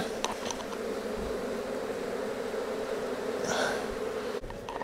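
Honey bees hum around a backyard hive in early spring, a continuous close drone with occasional louder passes as individual bees fly near.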